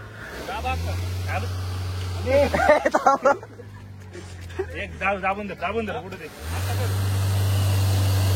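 A Mahindra Thar stuck in a ditch by a truck, its engine revving hard in long steady roars at the start and end, with loud talk from people nearby in between.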